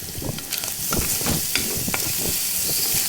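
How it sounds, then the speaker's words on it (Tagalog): Garlic sizzles and crackles steadily in a hot pan, a continuous bright frying hiss broken by soft stirring scrapes and occasional pops, close and alone with no voices. "magpiprito po tayo ng bawang"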